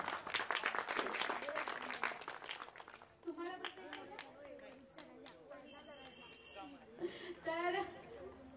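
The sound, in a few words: audience applauding the mandal committee members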